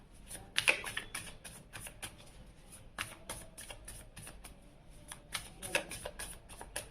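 Tarot cards shuffled and turned over for a love reading, a quiet run of close papery taps and flicks with faint snaps, steady and low in level, no voices.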